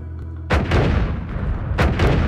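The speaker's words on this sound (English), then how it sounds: "That seems like a larger explosion" Spell explosions in the video game Noita, two loud booming blasts with rumbling, crackling decay, close and heavy, following a quieter tonal hum.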